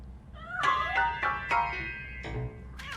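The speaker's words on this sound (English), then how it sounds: "That cat must be hiding inside." Several close meows from a cat hiding inside a piano in the video game Robocop Rogue City, a run of rising, tonal cries in quick succession with a brief pause before a final call, heard alone without talk.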